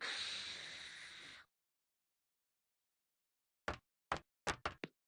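Doors opening in the 1996 educational video game Jumpstart 3rd Grade: a loud hissing whoosh cuts off into silence, followed by a quick series of five short knocking clunks.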